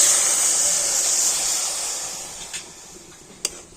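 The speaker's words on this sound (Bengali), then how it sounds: "আর ওই একই বাটির মাপ করে আমি হাফ বাটি জল দিয়ে দিচ্ছি।" Water is poured onto jaggery in a hot kadai, setting off a loud, steady hiss and sizzle that slowly dies down, with a couple of light clinks near the end.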